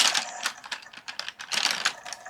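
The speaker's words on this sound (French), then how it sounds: "Vous m'entendez trifouiller dans ma boîte de crayons" Pencils rattle and clack against each other in a box as someone rummages through them, a dense run of close, quick, dry tapping clicks.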